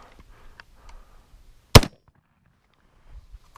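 A Winchester SXP Defender 12 gauge pump shotgun fires a single loud, sharp blast outdoors, standing alone between faint handling noises before and after.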